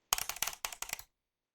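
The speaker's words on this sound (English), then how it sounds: "I also might teach you how to do like the keyboard sounds like this" A computer keyboard is typed on in a quiet room: a quick run of about a dozen crisp, close clacks in uneven bursts, then silence.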